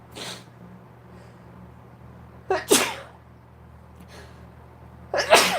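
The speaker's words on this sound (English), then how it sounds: "oh my gosh, I'm gonna sneeze." Two sharp sneezes about two and a half seconds apart, close and loud, with faint breathy sounds between and a low steady hum underneath.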